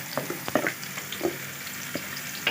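Onions frying in two spoonfuls of oil, a soft steady sizzle broken by scattered crackles and the scrape and clink of a spoon stirring in the pan, heard up close with no talking.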